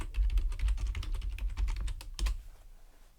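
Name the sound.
typing on a computer keyboard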